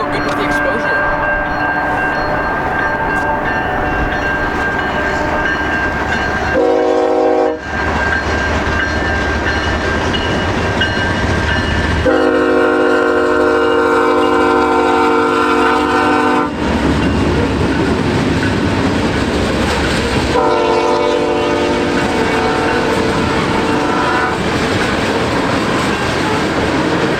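A CN freight manifest train rolls past with rumbling wheels and rhythmic clacking, and a loud locomotive horn sounds in several long blasts throughout.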